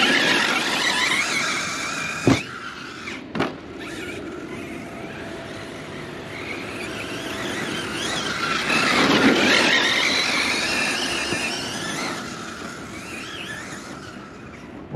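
A Hobao Hyper 8SC RC car drives and drifts on wet ground, its motor whining in rising and falling sweeps with tire hiss, two sharp knocks early on and a louder pass midway.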